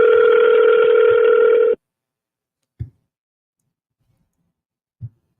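An outgoing phone call plays a steady electronic ringback tone for under two seconds. It then cuts to silence broken by two soft, brief low thumps.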